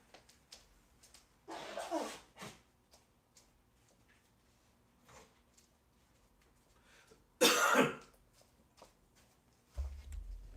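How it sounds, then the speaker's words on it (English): Two loud, short bursts of nose blowing, one near the start and a stronger one in the middle, with small rustles and clicks between them. "I have to blow my nose."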